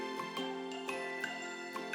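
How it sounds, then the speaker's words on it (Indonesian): A school bell rings in a quick series of bright, tinkling chimes, about six overlapping strikes with ringing overtones, clear and close with no voices. "bunyi yang lebih kuat adalah bel sekolah"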